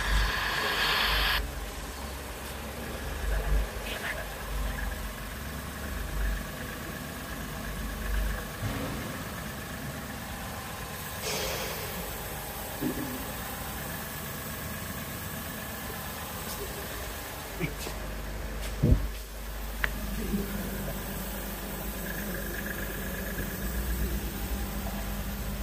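A Mahindra Bolero idling with a faulty fuel pump, a steady mid-pitched engine drone with a hissy noise layer and a few brief clicks and knocks, with people talking faintly at times.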